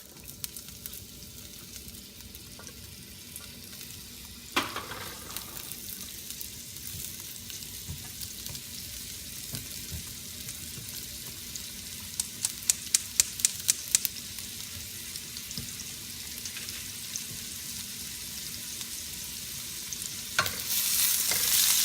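Onions frying in a pan as the first step of beef caldereta, a steady soft sizzle with occasional stirring clatter and scraping, moderately close and with no one talking.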